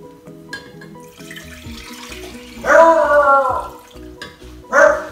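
A dog barks a couple of times, the barks standing out over running water and quiet background clatter while grocery store flowers are arranged.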